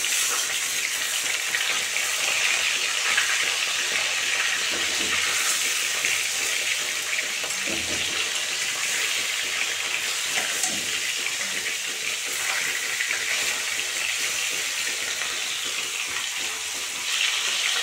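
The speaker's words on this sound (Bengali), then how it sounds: "মাছগুলো এখন আমি উল্টে দেব।" Rohu fish pieces sizzling in hot oil after being turned over, a dense, steady crackling hiss heard up close throughout, without any speech.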